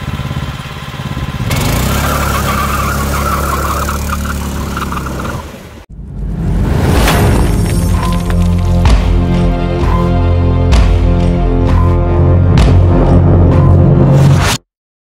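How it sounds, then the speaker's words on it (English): A small go-kart engine on a homemade farm-truck-style kart runs loud and close, droning steadily, cutting out briefly, then restarting and revving harder with rough sputtering as the kart moves. "now that the engine is on and it moves"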